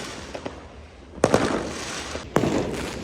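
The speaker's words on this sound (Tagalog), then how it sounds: "Oh, there's a fireworks." New Year fireworks over Manila Bay: two loud, sharp bursts about a second apart, each with a crackling tail, after a few fainter pops.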